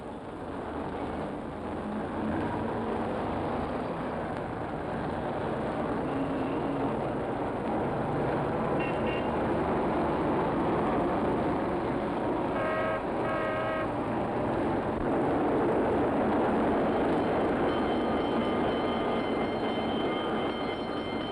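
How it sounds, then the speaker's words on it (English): Busy city street with trams, trucks and cars rushing past, a steady loud roar of traffic throughout with brief brighter rattles and squeals rising from the rumble. "Here every tram and truck and car rushes like a mad thing, like steers in a stampede."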